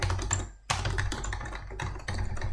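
Typing on a computer keyboard, a steady run of close, quick key clicks with one short pause, no voices.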